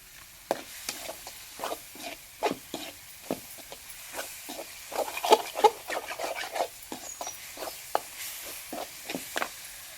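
Onions sizzle and sauté in a pan for a quail fry, with repeated scraping and stirring strokes over a soft frying hiss, close by and fairly quiet.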